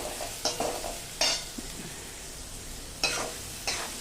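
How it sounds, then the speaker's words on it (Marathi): Onion being stirred and fried until golden in a pan at home, with a soft continuous sizzle and several short scraping stir strokes at irregular intervals, fairly close and moderately quiet. "छान मस्त गोल्डन कलरवरती मी कांदा परतून घेते."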